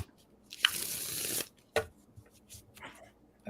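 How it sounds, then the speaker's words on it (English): Tarot cards riffle and shuffle in a few short bursts, with a longer swishing riffle early on and softer handling sounds after, close and quiet. "Helps if I shuffle the right deck, Okay. Mixing them up,"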